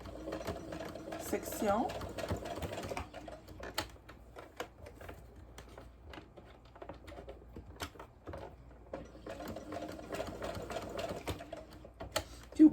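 A domestic sewing machine stitches fabric for an elastic scrunchie, running in rapid mechanical bursts with pauses between, close by, while someone talks over it.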